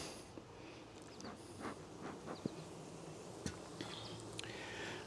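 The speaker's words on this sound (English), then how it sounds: "Lots of bees on the cover. Still lots of bees in this hive." Honey bees hum around an opened beehive, a faint continuous drone with individual bees buzzing past close by, plus light scraping and handling noises from the hive.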